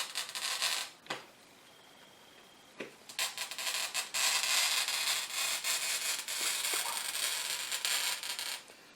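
A glass cutter's oiled wheel scores a pane for a Dior garden stained-glass window, giving a steady close hissing, rubbing rasp that stops briefly near the start and then runs continuously, with no talk.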